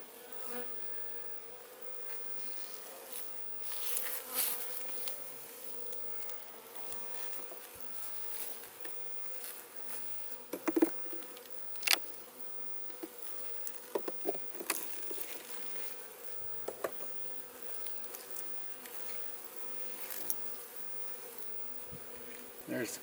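Honey bees buzz around an open beehive during an inspection, a faint steady drone with scattered soft clicks and taps of frames and tools, no talk.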